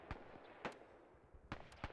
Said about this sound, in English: Sounds like mortar fire.